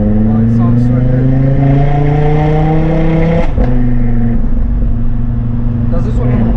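A roughly 1000-horsepower Audi RS3 with a full custom G-Force exhaust rumbles and revs steadily, its pitch rising and shifting, with a brief sharp knock midway and talk faintly underneath.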